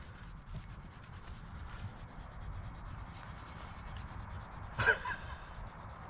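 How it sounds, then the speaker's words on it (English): A hand scratching a horse's back: soft, continuous rubbing and scraping, faint and close, with a brief louder rustle near the end. "Oh, morning scratches are the best."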